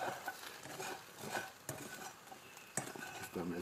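Sugar caramelizes in a pan outdoors for Kaiserschmarrn, heard as faint, steady scraping and stirring with a utensil over a soft sizzle, punctuated by a few sharp clinks against the pan.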